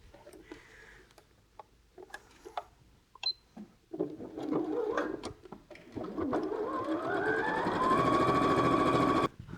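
A sewing machine stitches a quilt block at demonstration pace, starting with scattered light ticks and short bursts before settling into a steady, continuous whir that runs to the end, close and moderately quiet.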